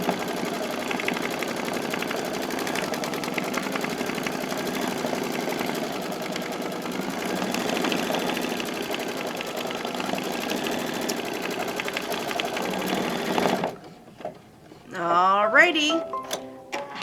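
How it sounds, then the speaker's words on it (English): An embroidery sewing machine runs a steady, rapid mechanical stitching drone while sewing around an applique piece on a tea towel, stopping abruptly near the end, after which someone speaks. "it's going to stitch around this piece. You have your straight stitch."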